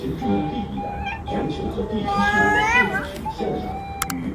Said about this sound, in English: This orange cat was deep in thought, but the moment it got touched, meow, like it's mad.